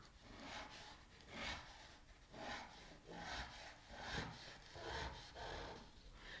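A wooden marking gauge scribing lines around a timber tenon for a wedged through mortise-and-tenon joint, with soft rhythmic scraping strokes repeating about once a second, close and quiet.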